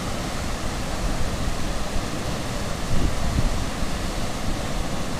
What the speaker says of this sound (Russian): И вот туда вода падает вниз